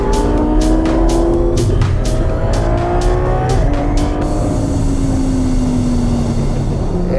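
A Lamborghini Huracán Performante engine roars while driving, revving hard through rapid upshifts with crackling gear changes, then settles into a sustained loud drone from inside or close to the car.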